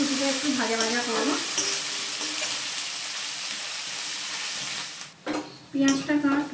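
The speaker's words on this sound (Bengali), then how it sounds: "পেঁয়াজ কুচিটা একটু ভাজা ভাজা করব।" Chopped onions sizzle in mustard oil in a kadai, producing a continuous close frying hiss with stirring. A person speaks over the sizzle at the start and again near the end.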